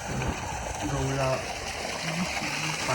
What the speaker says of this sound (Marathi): पाणी भरतायत.